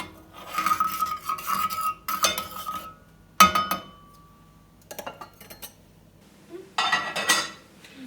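Hibiscus tea syrup is stirred in a pot, giving intermittent metallic clinks and scrapes of a spoon against the pot in short bursts separated by pauses, close and moderately loud.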